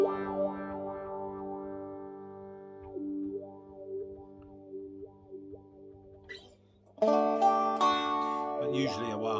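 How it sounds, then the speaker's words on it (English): A made-in-Japan Fender Telecaster with a Bigsby tremolo, played clean through a wah-wah pedal. Sustained notes sweep in slow vocal-like wahs, then louder strummed chords break in near the end. "The only one I haven't shown you is the wah-wah. Flick that on."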